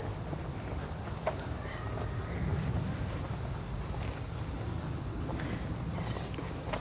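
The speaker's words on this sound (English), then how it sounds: "now it's time for the crickets to chirp" Crickets chirp steadily at night in Toyama Park, a dense, continuous high-pitched trill running unbroken from start to end, with a low rumble of distant background noise beneath.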